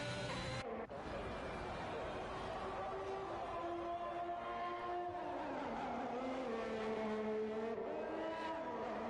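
A Ferrari Formula 1 car in the F1 2021 game starting a qualifying lap at Singapore, its high engine note rising and falling through gear changes at steady loudness, with a commentator talking over it.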